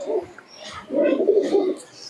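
Malbai pigeons cooing at close range, with soft low throaty coos in two bursts separated by a brief pause, and a few faint high chirps above them.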